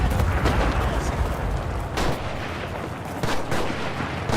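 A Puma armored car firing in the World War II shooter Enlisted, heavy booming cannon shots at intervals over a rumbling battlefield, loud and close, with sharper gunshot cracks between them.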